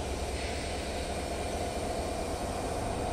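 Chitra Express passing close by at a station after its overnight run from Dhaka, a steady, dense rumble of rolling train cars with no break across the moment.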